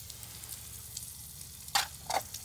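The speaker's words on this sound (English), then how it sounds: "This frying pan doesn't work very well when you're using it on the little gas burner." Food fries in a frying pan over a small gas burner at a rainy campsite, a soft steady sizzle broken by two brief louder crackling bursts near the end, with no voices.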